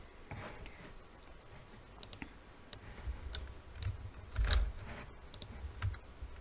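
A computer mouse clicking with scattered sharp clicks over a faint room hum, alongside light tapping that sounds like keyboard typing.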